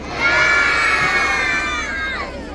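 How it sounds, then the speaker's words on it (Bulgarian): A young audience at a kindergarten holiday talent concert cheers and shouts in a loud, sustained burst of high voices that swells quickly, holds, then eases near the end. "Аплодисменти за тях."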